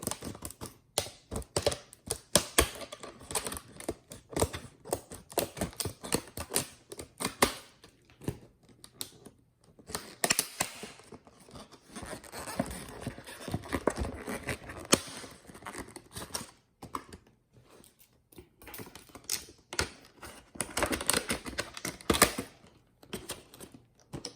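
Scissors cut open the plastic packaging of DeWalt safety goggles with a long run of rapid crisp snips and crinkly plastic rustling, close by and continuous with brief pauses, and no talking.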